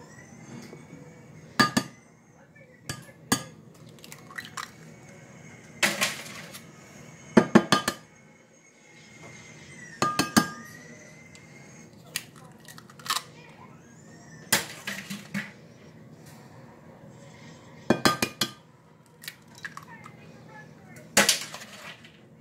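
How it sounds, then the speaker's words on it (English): Six eggs crack one after another against a bowl as scrambled eggs are prepared, sharp close taps with a few seconds between each, followed by faint clinks. Quiet background noise sits underneath, and no one speaks. "So I'm going to crack 6 eggs."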